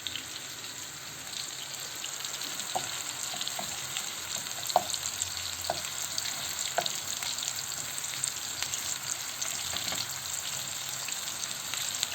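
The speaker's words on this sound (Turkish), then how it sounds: "Şimdi köftelerimizi kızartmaya geçebiliriz." Meatballs sizzle steadily frying in butter in a hot pan, a soft continuous crackle with occasional small pops, no voices.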